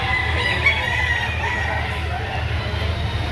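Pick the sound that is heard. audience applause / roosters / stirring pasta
roosters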